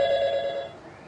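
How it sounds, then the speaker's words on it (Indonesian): A telephone rings with an incoming call during a health talk broadcast, a steady electronic tone lasting about half a second before it fades. "Nah ini langsung ada telepon masuk nih."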